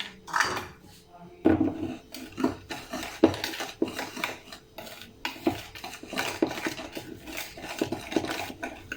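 Cake batter for a Vancho cake being mixed in a bowl in a home kitchen, with repeated clinks and scrapes of a utensil against the bowl in an uneven rhythm, close and moderately loud, no talking.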